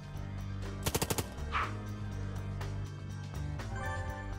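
A quick burst of four or five gunshots in the game Long Gone Days, sharp and close over a low musical drone, followed by scattered softer hits and impacts.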